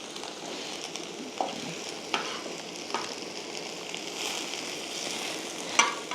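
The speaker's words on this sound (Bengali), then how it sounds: "5 ফোড়নটা এক সাইডে করে নেব, নিয়ে এইগুলোকে ভালো করে ভেজে নেব।" Panch phoron spices fry in a pan with mixed winter vegetables, a steady close sizzle broken by a few sharp crackles and spatula scrapes, with no talking.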